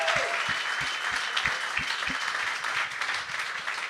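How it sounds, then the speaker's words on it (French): An audience applauds warmly, with several distinct hand claps near the start before the clapping blends into a steady, full patter that holds to the end. "il donne une bonne main d'applaudissement"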